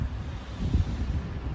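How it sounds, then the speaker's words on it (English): Wind blowing outdoors at a picnic spot, gusting and buffeting the microphone as a low rumbling whoosh, fairly quiet with no voices. "it's really windy right now, so it feels nice and cool"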